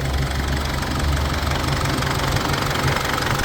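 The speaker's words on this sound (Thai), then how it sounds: "สตาร์ทดูก่อนว่าจะ ติดง่ายไหม" A freshly rebuilt Isuzu D-Max diesel engine idles with a steady, loud, close-up clatter and a low rumble, running without a break.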